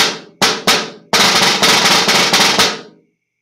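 Snare drum playing measure 30 of a snare etude: two single strokes, then a 13-stroke roll of buzzed sixteenth notes, played slowly, close and loud, with crisp attacks and a short ring-out at the end.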